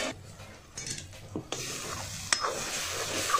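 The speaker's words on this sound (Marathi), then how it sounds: "तर 1-2 मिनटात झाकण असं ठेवून आपण हा मसाला भाजून घेतला आहे." Masala roasting in oil for cashew kurma in a village kitchen, a soft, faint sizzle with a few stirring scrapes and clinks of a spoon against the pan, close by and fairly quiet, with no talk.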